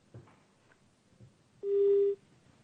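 A telephone busy tone after a call is hung up: one steady electronic beep sounds clearly after faint handling noises and light clicks, with no speech.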